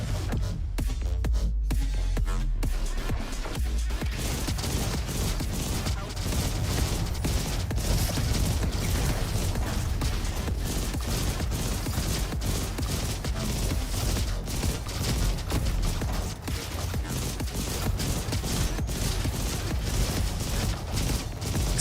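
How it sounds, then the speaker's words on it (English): Dense, continuous gunfire and explosions from a shooter video game, with rapid bursts and booming blasts layered into a loud, unbroken wall of combat noise throughout, no talking. "explosions are doing good work."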